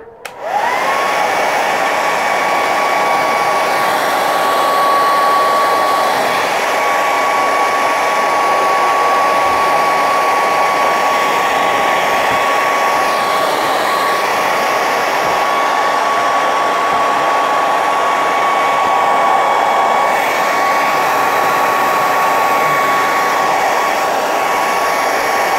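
A heat gun blowing hot air onto resin to soften and bend it, a loud steady whirring whine with a constant tone, switching on abruptly and running unbroken throughout.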